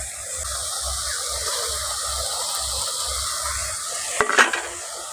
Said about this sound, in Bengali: আলুগুলো দিয়ে ভালো করে আলুর সঙ্গে মশলার সঙ্গে মিশিয়ে নিচ্ছি